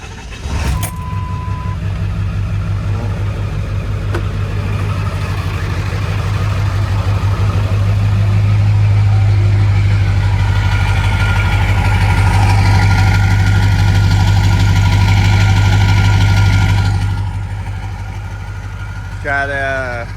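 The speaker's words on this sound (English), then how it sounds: "So we'll get this cold started for you." A diesel pickup fitted with a 5-inch exhaust turns over from cold and settles into a loud, steady low rumble up close, the idle swelling slightly midway and then easing.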